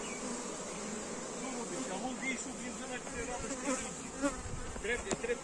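A honey bee swarm being moved into a hive drones in a dense, continuous buzz close by, with individual bees rising and falling in pitch against the mass.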